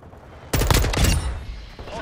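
Gunfire in Call of Duty Modern Warfare II, a sudden loud burst of rapid automatic shots that crackles for about a second and then trails off, with battlefield noise underneath.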